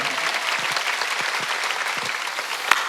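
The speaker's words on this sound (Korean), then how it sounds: "박수 치라요, 박수 치라요." A church congregation at a Sunday worship service claps together in sustained, dense applause, loud and close, with a few louder individual claps standing out near the end.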